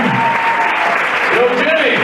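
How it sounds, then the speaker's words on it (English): A comedy club crowd applauds for a comedian at a hypnosis show, loud sustained clapping with shouts and voices mixed in the room. "How about another hand for Jimmy Burns, ladies and gentlemen?"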